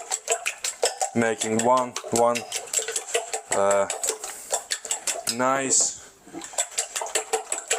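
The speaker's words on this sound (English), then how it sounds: "And just start whisking everything together," A fork whisks eggs in a bowl with fast, rhythmic metallic clinks, loud and close. Someone talks over part of the beating.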